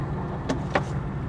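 An old BMW, a car the owner calls scrap, makes two short knocks from its gearbox about a quarter second apart over a steady low engine rumble, heard as the clutch pedal is worked.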